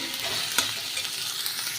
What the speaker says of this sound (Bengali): ফোড়নটা দিয়ে আমি পেঁয়াজটা দিয়ে দিয়েছি। পেঁয়াজ আর কাঁচা লঙ্কা একটু ভাজা ভাজা হয়ে গেলে